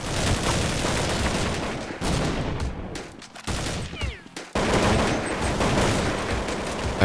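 An automatic rifle in Counter-Strike 1.6 sprays loud, dense bursts of rapid gunfire, broken by a short pause before the firing resumes at full intensity.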